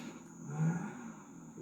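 A revving car engine in Grand Theft Auto V, a low steady rumble that swells briefly near the middle and then settles back, with no voices heard.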